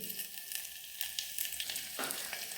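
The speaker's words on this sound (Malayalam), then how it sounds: "ഇഞ്ചിയും പച്ചമുളകും വെളുത്തുള്ളിയും എല്ലാം നന്നായിട്ട് മൂത്തു." Ginger, green chili and garlic fry in oil in a pan for a pulisseri curry, giving a steady close sizzle with brief stirring scrapes and no voices.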